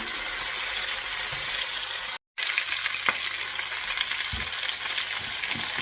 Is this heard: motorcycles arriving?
no